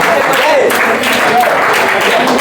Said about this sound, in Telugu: ఈ అబ్బాయి చప్పట్లు కొట్టండి